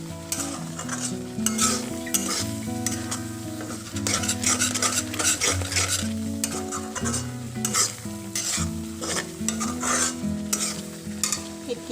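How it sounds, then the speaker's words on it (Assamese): A dish coloured with a little red food colouring is stirred in a pan, the spoon scraping steadily and repeatedly against the metal over a continuous loud sizzle, with no voices. "ভালদৰে এইটো লৰাই দিম"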